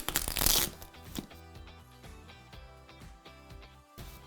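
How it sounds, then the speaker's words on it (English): A short burst of crinkling plastic packaging is pulled off a Cricut Explore Air 2 cutting machine, loud and close at the start, then fading under steady rhythmic background music. "To begin, we're going to unwrap our machine"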